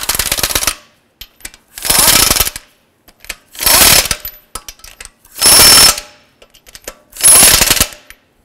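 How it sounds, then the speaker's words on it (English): An impact wrench snugs lug nuts on a Honda Civic wheel in five loud, close bursts of rapid hammering, each lasting under a second and separated by short silences. "I'm going to go ahead and snug up these lug nuts."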